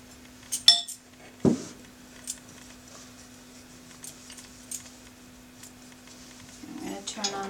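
Gluten-free bread dough being mixed with yogurt in a bowl, with scattered light clinks and scrapes of a utensil against the bowl over a faint steady hum.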